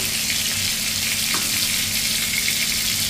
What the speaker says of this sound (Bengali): এই যে দেখুন মাছগুলো ভাজা হয়ে গেছে।